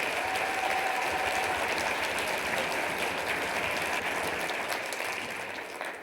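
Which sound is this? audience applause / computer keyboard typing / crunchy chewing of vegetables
audience applause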